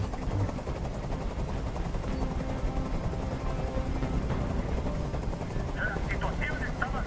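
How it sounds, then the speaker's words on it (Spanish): A helicopter drones in Detroit: Become Human, a dense continuous rotor roar holding steady throughout, loud and close, with people talking over it and a few brief sharp sounds near the end. "¡No aguanto ese ruido! ¡Dile a ese helicóptero que se vaya de aquí!"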